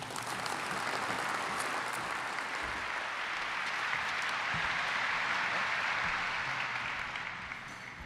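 A large audience at a port business event claps steadily for a mayor, a dense wash of applause that holds for several seconds and then begins to fade.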